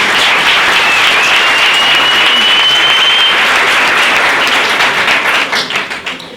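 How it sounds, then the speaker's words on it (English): A large crowd applauds loudly and steadily at a chapter launch event, a dense wash of clapping that thins and fades out at the end. "A round of applause."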